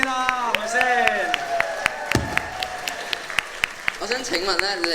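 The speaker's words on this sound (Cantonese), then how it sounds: "喂，俾多啲掌聲先啦，" A crowd at a Hong Kong band competition final applauds in sharp, scattered claps over lingering sustained musical tones, with a brief low thud midway.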